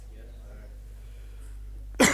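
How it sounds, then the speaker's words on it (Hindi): A single sharp cough bursts out near the end after a stretch of quiet room hum. "आज खांसी क्यों हो रही है?"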